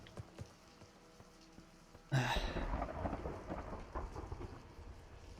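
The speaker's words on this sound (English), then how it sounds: "That's such a good thunder strike sound." A thunder strike during a rainstorm in the Receiver 2 shooter game, a sudden sharp crack followed by a heavy rolling rumble over steady rain.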